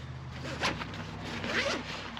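A zipper on the small top pocket of a camera bag is pulled open in two quick strokes, close and clear, with quiet room tone and no talk.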